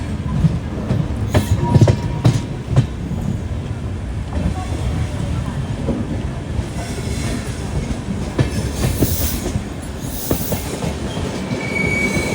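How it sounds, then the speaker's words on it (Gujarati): Superfast express train from Ajmer to Dadar Western pulling out of platform 4 at Surat, with steady low rail rumble, wheel clatter and occasional squeals building as it runs, plus faint voices in the background. "8 વાગ્યાને 42 મિનિટે આપણી ગાડી અહીંયાથી ઉપડી ગઈ છે."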